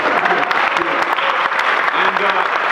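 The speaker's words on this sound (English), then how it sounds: "we can clap it up for spring real quick" Audience applause at a TEDx talk in New Albany, a dense steady burst of clapping from a crowd filling the whole moment, with some voices mixed in.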